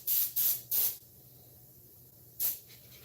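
Spray paint hissing onto a mask in short bursts: three quick sprays close together, a pause, then one more brief spray, loud and near against a quiet room.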